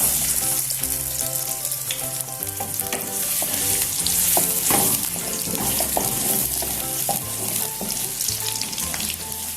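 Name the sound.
chopped onions added to hot oil, frying and sizzling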